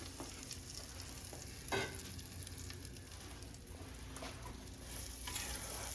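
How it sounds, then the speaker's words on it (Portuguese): Butter melts in a hot pan on the stove, sizzling and crackling steadily with a brief louder pop, close and continuous with no talking. "A gente vai colocar ela aqui já no fogo e vamos derreter a manteiga."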